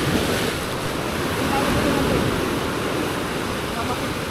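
Ocean waves wash and surge in a steady, loud roar close by, with wind noise over the water and brief voices during a fishing trip.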